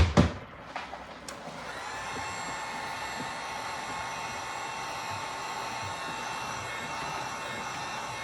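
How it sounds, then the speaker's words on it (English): A heat gun blows over an epoxy-coated tumbler, starting after a few clicks and then holding a steady, close whooshing roar with a faint high whine and no talking. "And get my heat gun to help move that around."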